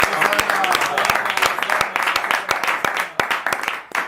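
A church congregation breaks into steady applause at a service, dense overlapping hand claps with sharp individual cracks rising and falling over about four seconds, with voices mixed into the crowd noise.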